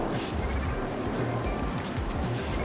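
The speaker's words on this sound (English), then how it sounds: "I'm inside a building and I'm still getting rained on." Rain pattering steadily down indoors, a dense, constant hiss of drops striking surfaces close by, with no pauses or voices.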